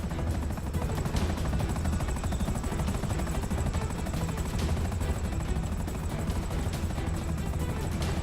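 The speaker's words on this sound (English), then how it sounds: "Jet assisted takeoff is quite something." A jetpack's jet-assisted takeoff in GTA V, a loud, dense, continuous roaring thrust with a rapid rattling pulse, steady and close throughout, with no voices.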